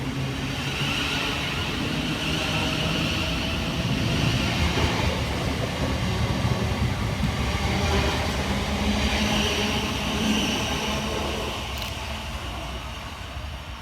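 Southeastern Class 465 electric unit 465909 passes fast along the Hayes line, from London Victoria to Beckenham Junction, in a loud, continuous rumble of wheels and rails that eases slightly toward the end.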